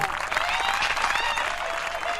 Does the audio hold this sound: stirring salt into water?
no